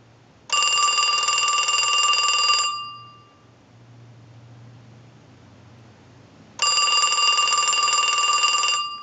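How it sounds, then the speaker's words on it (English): A Western Electric Trimline telephone bell rings on test, two loud buzzing ring bursts about two seconds each separated by a quiet pause, close and alone. "we're going to send a ring cycle like you were getting a call"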